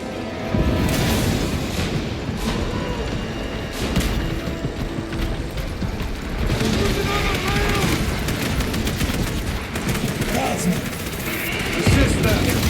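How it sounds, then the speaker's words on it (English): Small arms gunfire in Warhammer 40,000 Space Marine 2, a loud, continuous clatter of shots and impacts mixed with battle noise and booms, running throughout with a few sharper bursts. "Small arms fire."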